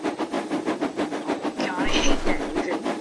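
A train rumbles along with a steady, rhythmic clickety-clack of wheels on the rails, heard up close, with a brief squeal partway through.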